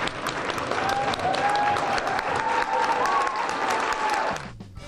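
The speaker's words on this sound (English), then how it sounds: "The applause for the rising ninth graders at Lanham Hall was a little louder than normal" Audience applause at a school board meeting as rising ninth graders stand, a full steady round of clapping with a faint tonal sound threaded through, ending abruptly.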